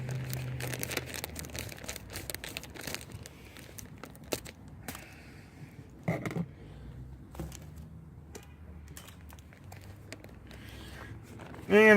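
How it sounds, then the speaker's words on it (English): An 8-ounce plastic bag of mozzarella cheese being cut open in a kitchen, giving soft crinkling and scattered small crackles and snips, fairly close and quiet, with a louder rustle at the very end. "I got myself an 8-ounce bag of mozzarella cheese. And let me get this cut open real quick."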